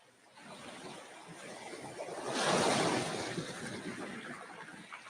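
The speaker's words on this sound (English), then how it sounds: "Ocean coming a little louder as you approach." Ocean surf washing onto a beach, a broad, airy rush that swells louder toward the middle and then eases, steady and close with no talking.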